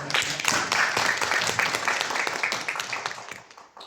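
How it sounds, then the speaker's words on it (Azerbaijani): Audience applause at a presenters' event in the Khatai district central library, a dense wash of clapping that fades slightly toward the end. "Alqışlarınız"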